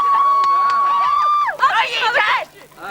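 A crowd of Year 10 high school students at their formal passes by, a burst of excited voices, shouting and babble that swells after a sustained tone and then fades.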